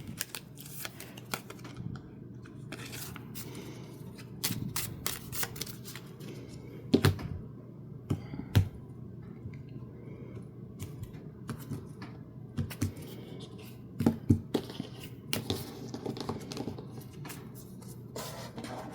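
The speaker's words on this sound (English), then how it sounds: "Give these cards a quick shuffle." Cards from a large deck being shuffled by hand in sections during tabletop game setup, with soft riffling and clicking bursts, a few sharper snaps, over a quiet room background.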